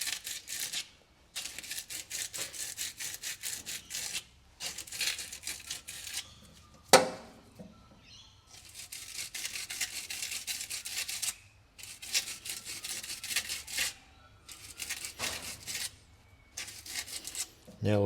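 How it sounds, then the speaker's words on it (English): Small metal parts from an old section car are hand sanded with sandpaper in repeated short scratchy strokes, close and fairly faint, broken by brief pauses and one knock. "I'll give them a quick sand."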